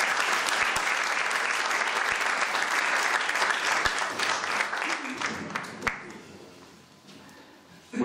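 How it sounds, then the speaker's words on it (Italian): An audience at an agricultural association conference in Ragusa breaks into sustained, dense applause that fills the room, then fades away to quiet near the end. "Se volete lo possiamo accogliere anche con un applauso di incoraggiamento."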